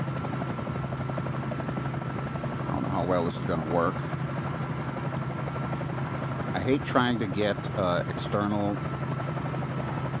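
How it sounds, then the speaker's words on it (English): A Bell 47J Ranger helicopter flies in Microsoft Flight Simulator, its rotor and engine making a steady, buzzing drone throughout while someone talks over it in short bursts. "I'm flying like this in a helicopter that doesn't have autopilot"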